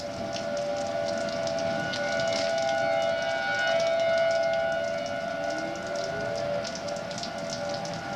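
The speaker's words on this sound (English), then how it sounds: "Sirens are going off." Tornado warning sirens wail in the distance, a sustained droning tone that slowly swells and fades, with outdoor background noise.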